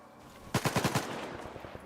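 Rapid burst of about six gunshots in S.T.A.L.K.E.R. 2, close and loud, followed by a few fainter, scattered shots against quiet background ambience.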